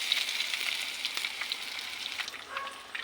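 A beaten egg and anchovy omelette fries in a pan with a steady, bright sizzle and crackle throughout, close up and fairly quiet, with no voices.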